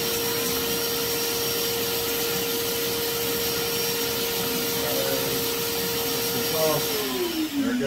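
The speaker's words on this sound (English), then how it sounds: "Now when I turn this on, it should turn on the vacuum. And the spindle, there it is." An Inventables X-Carve Pro CNC router runs its dust vacuum and spindle together: a loud, constant vacuum roar with a steady high whine from the spindle, whose pitch shifts near the end.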